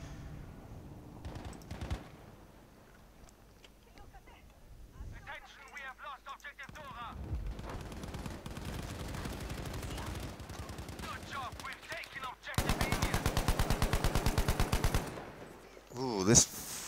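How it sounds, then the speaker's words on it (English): Bursts of French assault rifle fire in the World War II shooter Battlefield V, with scattered shots early and a sustained loud rapid-fire burst near the end, set among battlefield ambience and radio-like chatter. "this French assault rifle has quite a big recoil to it"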